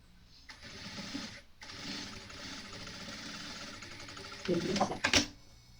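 A sewing machine stitches a seam on a fabric box bag with a phone pocket. It runs in a steady whirring burst of about four seconds, with one short break, and ends in a few sharper clicks and knocks close by.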